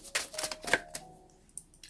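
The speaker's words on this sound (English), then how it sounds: "I'm going to give the Luna Soul Tarot a good shuffle." Tarot deck being shuffled by hand, a quick run of soft papery riffles and taps over about two seconds, close and fairly quiet, with no talking.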